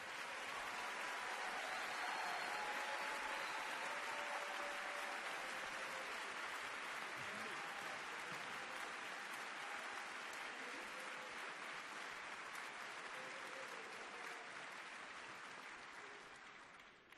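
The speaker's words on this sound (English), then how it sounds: "Let's give them a round of applause, please, our military people." A concert audience at a holiday tuba ensemble performance on a stage applauds steadily for military members, a long, even wash of clapping that is fairly faint and distant, fading out toward the end.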